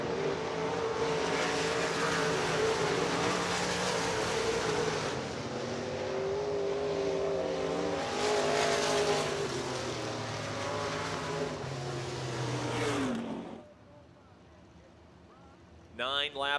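UEMS Modified race cars roar around Pennsylvania Motor Speedway in a heat race, a loud continuous engine drone with rising and falling revs as the pack passes, then dropping away abruptly near the end before a brief burst returns; a commentator talks over it.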